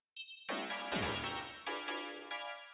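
A bright, buzzy synth pluck struck repeatedly in a steady pattern, thick and slightly detuned from stacked unison voices, each hit fading slowly, made in Harmor.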